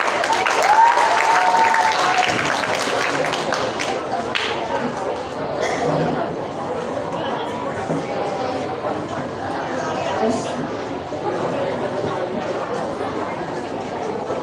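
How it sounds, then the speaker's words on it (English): A school audience at a junior high storytelling event applauds in a steady, fairly loud patter that lasts the whole stretch, with chatter and a short tonal whistle-like sound early on. "Okay, give applause."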